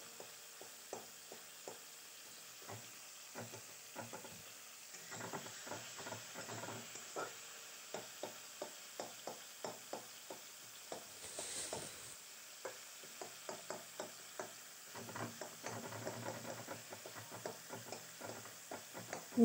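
A tomato is mashed and fried in a pan with a spatula, making repeated scraping taps and soft squelches over a quiet, steady sizzle, close and rhythmic throughout.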